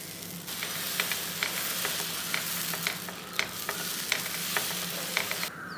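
Dosa batter sizzling on a hot pan, a constant close hiss with a series of light taps and scrapes from a utensil, no voices present.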